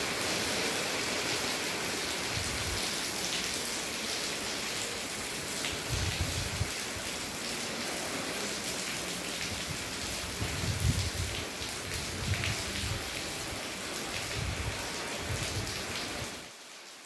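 Steady rain falling at night in western São Paulo state, Flórida Paulista, a dense even hiss of drops on surfaces with occasional heavier patters, continuous until it cuts off near the end.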